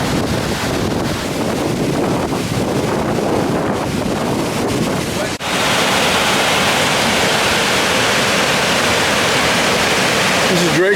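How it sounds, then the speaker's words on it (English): Drake Falls, a waterfall in Silver Falls State Park in Oregon, roars loud and continuous up close, its broadband rush mixed with wind buffeting the microphone. "This is Drake Falls. This is falls number 6."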